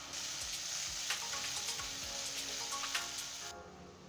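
Masala for Odia crab curry fries over a low flame in a steady soft sizzle, with light stirring ticks, before cutting off abruptly near the end.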